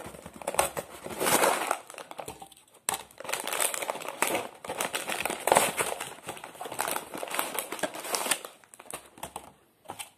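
A packet of olive oil and herbes de Provence crackers is opened, giving steady, close crinkling and rustling of the plastic wrapper in continuous bursts with only brief pauses.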